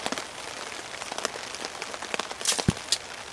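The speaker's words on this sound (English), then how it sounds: "I apologize for the rain noise." Heavy rain pours down outdoors, a dense steady hiss of drops pattering on surfaces with occasional sharper splashes and close hits, loud and continuous with no voices.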